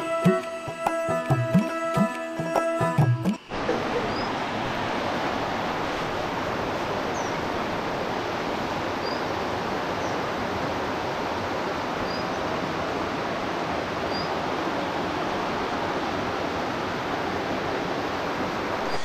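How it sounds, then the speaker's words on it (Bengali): Steady broadband rush of a riverside flow near a homestay in Bijanbari, Darjeeling, continuous and fairly loud after a brief burst of other sound at the start. "নদীর জলের কলরব দিয়ে"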